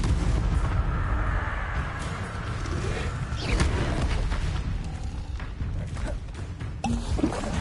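Fiery spell blasts in Hogwarts Legacy, several crackling, booming bursts layered over a dense, rumbling game soundscape, loud and continuous for several seconds.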